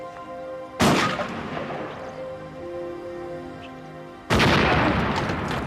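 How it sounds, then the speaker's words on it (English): Two loud, sharp blasts ring out from an exploding shotgun, the first followed by a long decaying echo and the second arriving about three and a half seconds later. "The gun just exploded."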